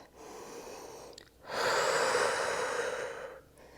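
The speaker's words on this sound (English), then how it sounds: "Breathing in through the nose and slowly out through the mouth." Slow Pilates breathing: a soft inhale through the nose, then a longer, louder exhale through the mouth, close and clear with no talk.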